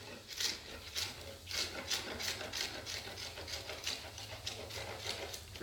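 A Kabar knife shaves and debarks a wooden stick in a steady run of scraping strokes, each a short rasping rub close by. The rhythm is regular, with no talking.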